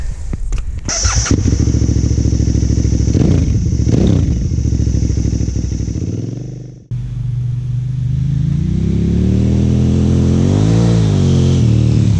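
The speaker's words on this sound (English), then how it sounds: "I've been fortunate enough to take the KTM990 for a test ride." A 2007 KTM 990 Adventure S motorcycle being ridden, its engine loud and close throughout, revving and rising in pitch, then a brief dip as it shifts, followed by a steady climbing drone.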